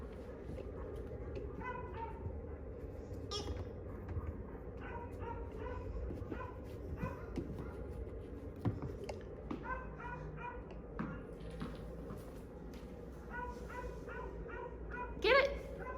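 A rescue dog barks in short yips and whimpers during an excited game of fetch, repeated bursts over steady background noise, with a person's voice speaking now and then.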